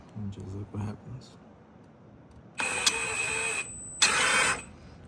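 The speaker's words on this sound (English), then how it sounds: "Put an impact on there and just look what happens." An impact wrench fires in two loud bursts on a car strut nut, the first lasting about a second and the second shorter, each with a high whine, following a few brief words of talk.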